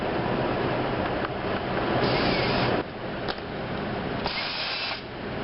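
Power drill boring a pilot hole for screws in a wooden birdhouse, a close steady whine that rises in bursts and eases off between pulls of the trigger.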